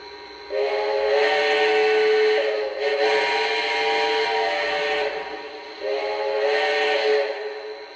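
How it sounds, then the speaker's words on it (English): A Lionel Legacy model steam locomotive sounds its factory whistle in three sustained, chord-like blasts, the first two long and nearly joined and the last shorter, clear and close against a quiet background. "This one too has the 5 different whistles. Here's the factory one, the first one."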